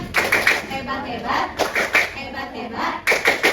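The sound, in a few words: class of children clapping together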